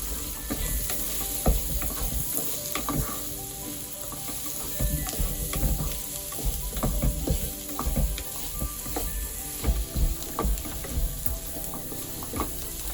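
Turmeric being stirred into a drumstick and tomato curry in a pan, with a steady oily sizzle and frequent scraping, clinking stir strokes running close and continuous throughout.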